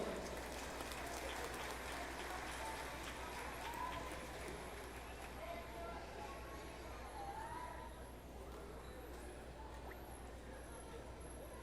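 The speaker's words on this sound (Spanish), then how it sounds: "Despidamos este bonito número con fuertes y calurosos aplausos." Audience at a live cultural program in Santa Maria Tlahuitoltepec applauding after a performance, steady, fairly faint clapping across the whole span that thins slightly toward the end, with a low background hum.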